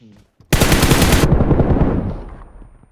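A loud burst of rapid automatic gunfire in PUBG Mobile that cuts off abruptly, followed by a fading echo.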